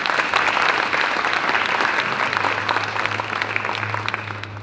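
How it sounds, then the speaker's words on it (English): Audience at a conference opening gives a sustained round of applause, dense and steady clapping from a crowd throughout, fading slightly toward the end. "just give him a big hand of applause"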